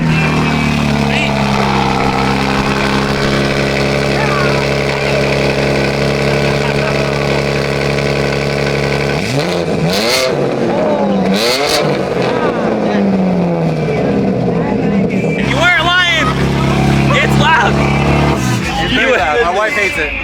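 A car with a straight-pipe exhaust in place of the muffler starts and settles into a loud, rumbling idle at a drag strip, running steadily throughout, with people talking nearby over the engine.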